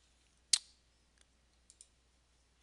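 A computer mouse clicks once sharply and close, then two fainter quick clicks follow in an otherwise quiet room.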